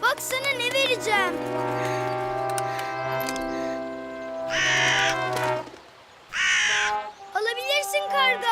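A cartoon crow caws in a few loud, harsh bursts amid a busy animated soundtrack of music and tones, with a short quiet gap before the final calls.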